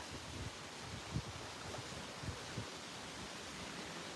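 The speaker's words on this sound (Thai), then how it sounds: "ลมพัดอย่างเงี้ย นะคะ" Wind blows across a lake in Sweden as a faint, steady outdoor rush, with a few soft, low buffeting gusts and no voices.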